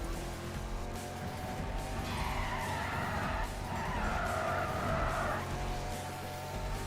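A car in Need for Speed: World understeers through a corner taken too fast, its tires squealing in a long continuous skid over the steady roar of the racing engine, loud and close throughout.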